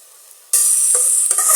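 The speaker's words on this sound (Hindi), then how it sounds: "अच्छी तरह से भून लेंगे।" Chicken spaghetti noodles hit a hot pan and start frying with a sudden loud, steady sizzle, punctuated by a couple of stirring scrapes.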